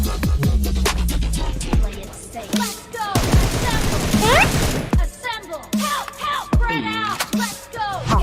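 Rapid bursts of PUBG gunfire crackle over engine roar and crashes, with brief excited shouting between volleys.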